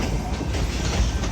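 CSX L234 freight train rolling through downtown Greenville, a steady loud rumble of rail cars with wheel clatter, close by and continuous.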